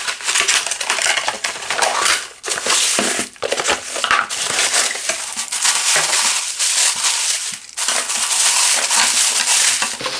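Cardboard and plastic packaging crackle and crunch loudly up close as a Silvercrest ice cream maker is unboxed, a dense, continuous rustling with a few brief dips and no talking.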